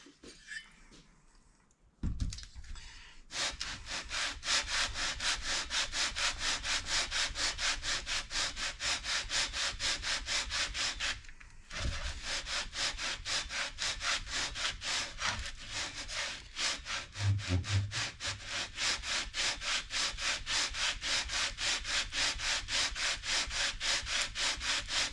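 A motorcycle cylinder head is rubbed back and forth on sandpaper to flatten it, making steady rhythmic scraping strokes, loud and close, with brief pauses near the start and middle and no talking.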